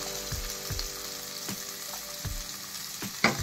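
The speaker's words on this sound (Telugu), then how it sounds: "దోరగా వేయించుకోవాలి." Carrot, capsicum and beans fry in a pan for masala upma, a steady close sizzle with regular scraping stirs of a spoon roughly every three quarters of a second.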